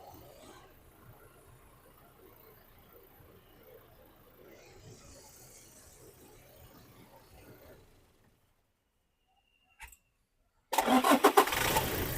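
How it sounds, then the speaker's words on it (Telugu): A 2018 Toyota Fortuner 4x2 automatic fires up in a single crank after a quiet pause, its engine catching abruptly and settling into a loud, close idle at the end. "సింగిల్ సెల్ఫ్ లో బండి స్టార్ట్ అవుతుంది సార్"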